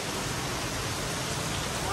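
Heavy rain pours in Chennai, Tamil Nadu, during a storm that drives water over a gate: a continuous, dense roaring wash with no pauses and no talk.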